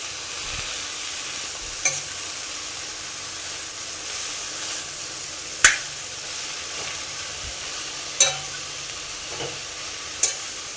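Amaranth leaves frying in a pan give a soft, steady sizzle, with a few sharp spatula clicks and stirring scrapes spaced through it, no voices.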